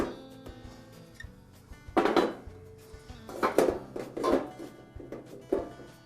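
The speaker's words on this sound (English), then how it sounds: "Now I can place the grills back into the barbecue." Metal cooking grates are set back into a Coleman barbecue grill, producing several clanking, rattling impacts at irregular intervals, close and moderately loud.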